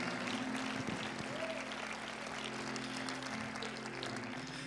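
A church congregation claps together during a service, a dense, even wash of applause that stays fairly quiet and distant for the whole stretch, with faint crowd murmur underneath.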